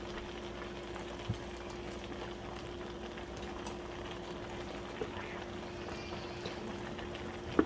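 A pot of eru soup, made with dried vegetables and palm oil, simmers with a soft steady bubbling and an occasional faint clink, quiet and continuous with no talk.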